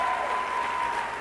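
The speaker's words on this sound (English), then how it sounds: "give yourselves a round of applause" Audience applause at the Enactus World Cup 2013 conference keynote, a steady dense wash of clapping from a large crowd that holds evenly throughout, with a faint tone running beneath it.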